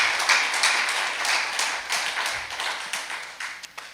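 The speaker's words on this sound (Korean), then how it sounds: "감사와 영광과 존귀의 박수를 올려주시면 감사하겠습니다" An audience gives a burst of clapping in a hall, individual claps distinct within a loose, uneven rhythm that thins slightly toward the end, no speech over it.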